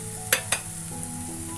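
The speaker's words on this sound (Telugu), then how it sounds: "ఉల్లిపాయలు ఇలా దోరగా వేయించుకున్న తర్వాత 2 కట్ చేసిన పచ్చిమిరపకాయలు," Onions and green chillies frying in a pan, with a soft steady sizzle and two sharp stirring clinks close together near the start.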